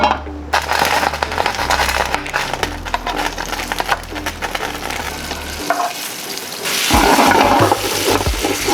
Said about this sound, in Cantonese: 然之後我哋將嗰個鹹魚先煎上嚟先